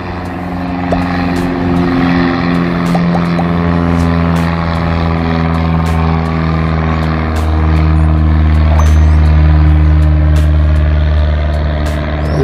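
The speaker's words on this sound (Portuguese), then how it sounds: "Ele não usou nada da pista para decolar." A propeller aircraft takes off at Sorocaba airport in Brazil. Its loud, steady engine drone with strong harmonic tones holds throughout and swells slightly toward the end, with no voices.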